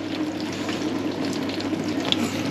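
Water runs steadily from a leaking Electrolux dishwasher, a continuous close broadband flow with a faint drip near the end and no talk.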